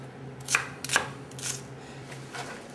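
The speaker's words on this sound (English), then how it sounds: "I'm gonna cut this one in half like this" A knife cuts a squash in half on a board with a few crisp, close crunching strokes between quiet gaps.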